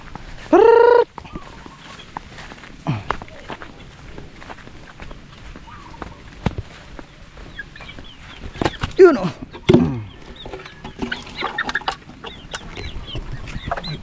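Chickens and chicks on a farm, scattered clucks and peeping calls across the clip, with a loud squawk near the start and more calls later, over faint background noise.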